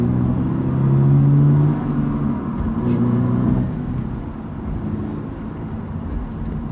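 A Toyota GR86 with a manual gearbox accelerates, its engine note rising and then dropping at a gear change, followed by a steadier cruising drone and road noise from inside the cabin. No one is talking.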